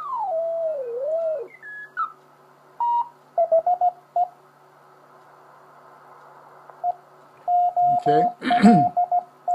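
Radio signal tuned on the 20 meter band through a Heathkit HW-101 transceiver with a homebrew Arduino VFO: a sweeping whistle, then short bursts of steady tones and garbled sideband sound from a distant station, loud and close.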